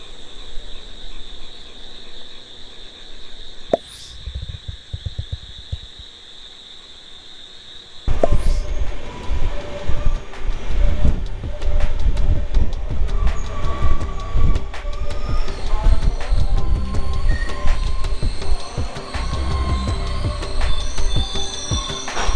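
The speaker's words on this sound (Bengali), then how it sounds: "ট্রেন মেচেদা এসে ঢুকলো" Kandari Express night train pulling into Mecheda station, first a quiet stop with a steady insect drone, then a sudden swell of loud rumbling wheels, clanking carriages and squealing rails heard close from inside the train.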